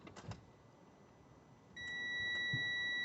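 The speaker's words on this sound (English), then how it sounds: "it's an audible multimeter, so it means I can do it on my own" An audible multimeter emits a steady electronic tone, starting partway through and holding to the end, while testing the starter wire on a car that cranks but won't start.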